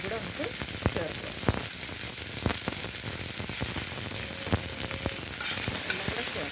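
Chopped onion, green chilli, ginger and garlic sauté in a hot pan, a constant oily sizzle broken by sharp scrapes and clicks of a spoon stirring, close and clear.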